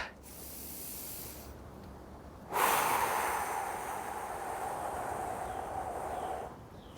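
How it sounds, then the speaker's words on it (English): One long, deep breath drawn in and let out slowly, a close, breathy rush of air lasting several seconds with no talking. "Let's take a breath."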